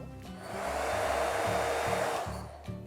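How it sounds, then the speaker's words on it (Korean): A hair dryer blows hot air to soften the end of a water hose for a camper van's fresh-water filter system, a steady whooshing roar rising in and ending after a few seconds, close and alone. "이 부분도 약간 드라이기를 통해서 녹여준 다음에 껴주면 쏙 들어가게 됩니다."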